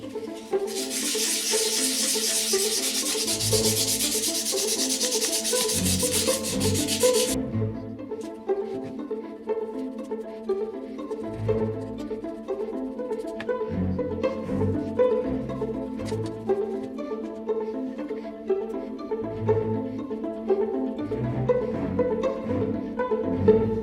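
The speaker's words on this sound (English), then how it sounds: "this platter bit wants a good scraping down, it's going a bit rusty in places, so good rub down" Scraping and rubbing down a rusty jukebox platter on a Rock-Ola: a loud, steady, hissing scrape for the first several seconds, then softer intermittent rubbing over continuous background music.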